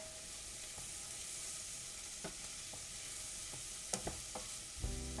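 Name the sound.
onions frying and sizzling in a pan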